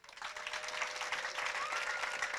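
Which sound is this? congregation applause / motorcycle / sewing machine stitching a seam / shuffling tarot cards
congregation applause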